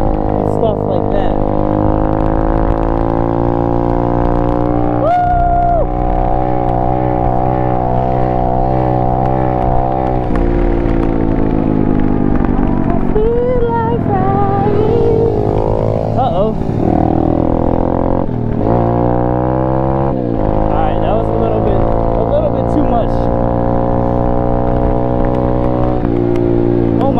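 An Apollo RFZ Chinese pit bike engine drones loudly and continuously on a test ride, its pitch rising and falling with repeated revving and gear changes, close to the microphone with wind buffeting.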